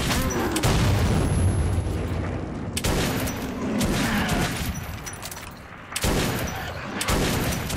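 Gunfire in the Metro 2033 video game, fired at corpses in underground tunnels. Several sharp, loud bursts of shots come at intervals, with rumbling booms and echoing noise between them.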